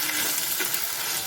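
Onions fry with chili powder in a pan, giving a steady close sizzle with faint stirring scrapes and no voices.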